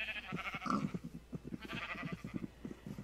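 Sheep in Minecraft bleating in a run of short, wavering calls, close and fairly clear, some overlapping, with no talking over them.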